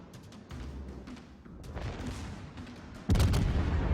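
Warship guns firing in World of Warships, the destroyer Fletcher in a naval battle against cruisers and the destroyer Udaloy: a run of rumbling booms and thuds, then a louder, heavier salvo near the end.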